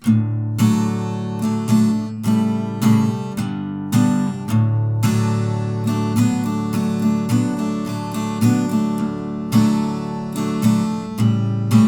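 Acoustic guitar strumming the verse chords of a song in a detuned tuning, with a steady down-up strumming pattern played alone, bright and close.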